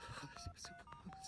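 Quick run of telephone keypad tones in an animated cartoon, several short beeps in fast succession, with indistinct voice sounds underneath.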